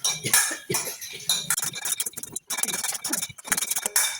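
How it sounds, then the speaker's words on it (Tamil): Green gram dry-roasting in a hot pan for sweet pongal, tossed with a spatula that clinks and scrapes against the metal in quick, irregular bursts, close and fairly loud. "சட்டி காஞ்சிட்டு நான் இதை போட்டுட்டு லேசாக வறுத்தெடுப்போம்"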